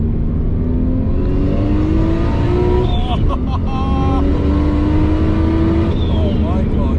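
Nissan R32 Skyline with a 2.0-litre turbo engine making 420 bhp, accelerating hard under high boost; the engine pitch climbs steadily through two rising pulls with a whirring turbo, loud and close, while voices are heard over it.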